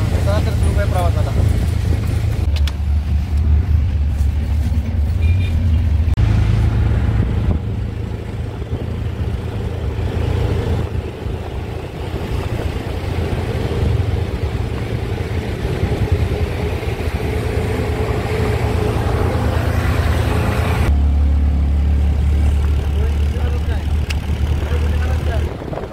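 Auto rickshaw engine droning steadily on a road during a trip from Chiplun to Mumbai, a continuous loud low rumble throughout with people talking over it.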